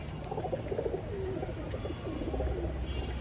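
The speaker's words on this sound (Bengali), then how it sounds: "এগুলো হচ্ছে আমার বাসার সবচেয়ে ভালো কবুতরগুলা" Caged pigeons coo in soft, repeated throaty phrases, fairly close, over a low background hum with no talking.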